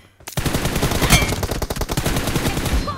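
Rapid automatic gunfire in a team deathmatch video game, dense overlapping bursts of shots with sharp cracks running steadily for about three seconds, loud and close with no talk over it.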